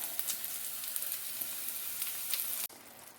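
Spiced lamb browning in a hot pan, a loud, even sizzle with faint spits and pops that cuts off abruptly near the end.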